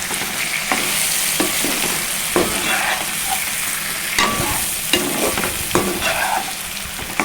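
A stuffed brinjal curry (gutti vankaya) sizzles steadily in a pan while a spoon stirs it, with repeated scraping clicks over a continuous close frying hiss and no talking.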